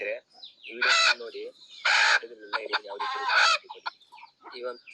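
Free-range country chickens cluck and squawk loudly up close in several distinct bursts, separated by brief quiet gaps.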